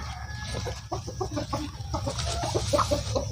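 Free-range breeder chickens on a backyard heritage farm cluck in quick, overlapping bursts close by, a steady chatter of several hens over low background noise.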